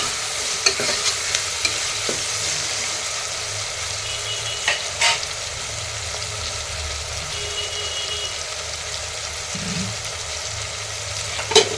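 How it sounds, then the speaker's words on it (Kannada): Vegetables for vangi bath frying with salt in a pan: a steady, close sizzle with occasional stirring scrapes and clicks, continuous throughout with no talk. "ಉಪ್ಪು ಹಾಕೋದ್ರಿಂದ ತರಕಾರಿಗಳು ಬೇಗ ಫ್ರೈ ಆಗ್ತವೆ"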